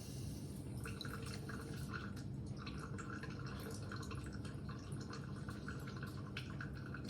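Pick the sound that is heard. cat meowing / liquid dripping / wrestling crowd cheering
liquid dripping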